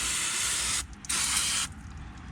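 Short bursts of aerosol brake cleaner hiss loudly against the dusty rear brakes of a 2011 Chevrolet Equinox, two sprays separated by a brief pause, then a quieter tail.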